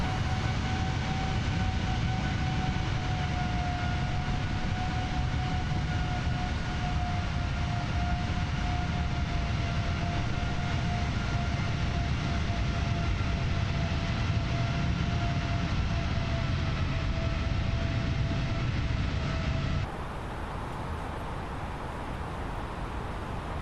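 Loud, steady Airbus A330-900 engine roar in Microsoft Flight Simulator, a constant broadband jet rumble with a whining tone that drops in level near the end.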